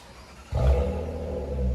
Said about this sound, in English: Then what we did is put two FLOWMASTER 40 series on it.